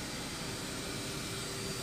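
Hyundai i20 petrol engine idling in first gear with the clutch released and the disc rotor and wheel hub spinning freely, giving a steady, even whirring hum with no variation.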